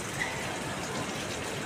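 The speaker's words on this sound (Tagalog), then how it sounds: "After kumukulo na yung tubig, ilalagay ko na yung chicken feet" Chicken feet drop into a pot of boiling water while cooking papaya soup, giving a soft steady bubbling, splashing wash with no distinct impacts, faint and close.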